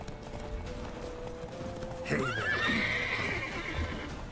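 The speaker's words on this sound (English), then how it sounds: "Horses! Can I get a new horse?" A horse neighs loudly over a steady background in The Witcher 3 video game, with hooves clip-clopping nearby; a faint hum underneath.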